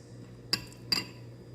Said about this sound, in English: Mix it really well.